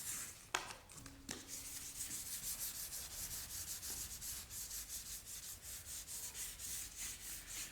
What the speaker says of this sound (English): use your bit of sandpaper just to go over there again and lightly scuff that over